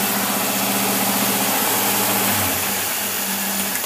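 Car engine fed by a two-barrel carburetor running steadily at a cruise-like speed, a continuous close mechanical hum with a slight drop in pitch partway through, no talking.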